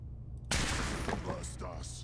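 Single lure gunshot in the game Fallout 4: a sharp, loud crack half a second in, followed by a decaying echo and some scattered in-game sounds, over a low background rumble.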